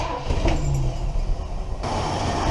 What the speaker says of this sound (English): So I'm gonna fire this thing up, pull them off one by one, and listen for an RPM drop